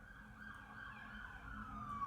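Police car sirens wailing outdoors at a distance, a steady rising and falling tone over low traffic rumble for about two seconds, with no talking.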